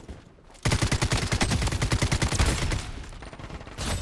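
Full-auto SKS rifle in the video game Blood Strike, a loud rapid burst of shots in quick regular rhythm lasting a few seconds, close and punchy, then tapering into quieter game ambience.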